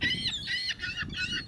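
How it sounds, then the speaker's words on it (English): Birds being fed call with several honking, goose-like cries in quick succession, fairly close and clear over quiet background. "that's the way that they call the other birds"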